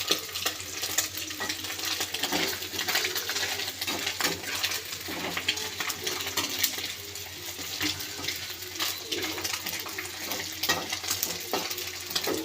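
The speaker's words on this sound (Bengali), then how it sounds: "মোরলা মাছ ভাজা হয়ে গেছে" Small morla fish fry in a pan over a gas flame turned low, giving a steady crackling sizzle with occasional sharper pops, close and fairly quiet.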